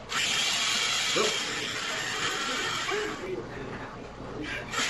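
A power drill whirs loudly and steadily up close, drilling mounting holes for a fridge drip tray, running almost without pause, with a faint voice underneath.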